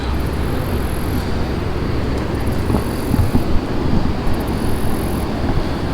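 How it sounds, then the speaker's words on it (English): A steady low rumble of a train crossing a bridge over a river in Paris, Ontario, heard from a distance under wind and outdoor ambience, with a few faint clunks in the middle. "Another train going over the bridge."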